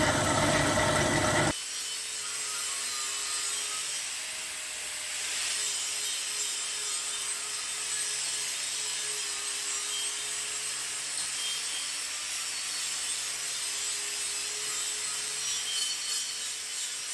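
A bandsaw cutting steel bench legs to length, a steady continuous grinding whine that runs on unbroken at a constant level after a brief louder opening burst, close and without talk.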